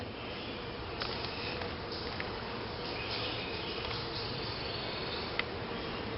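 Honey bees buzz during a hive inspection, a faint, continuous drone with occasional louder passes as individual bees fly close to the microphone.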